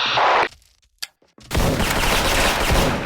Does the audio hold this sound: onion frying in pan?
no